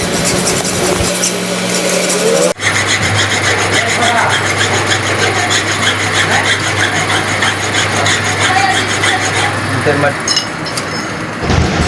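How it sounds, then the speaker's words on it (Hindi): A pedestal fan motor bushing is filed with a hand file, a steady close rasping scrape running continuously alongside a low motor-like hum after a brief pause near the start. "ये अब रेती से इसको पॉलिश किया जा रहा है, इसको बराबर किया जा रहा है।"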